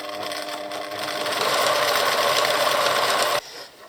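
A sewing machine runs steadily at close range, stitching a fabric valance seam at a medium stitch length, its motor whirring and rising in speed before stopping abruptly, with no talking.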